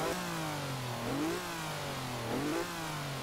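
Six-cylinder naturally aspirated car engine in Forza Horizon 4, revving steadily with two rising pitch sweeps, loud and continuous with no talk.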